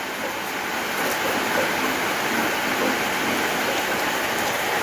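Heavy rain pours down steadily during a flood, with water filling the streets; a dense, even hiss holds at constant loudness throughout, with no voices.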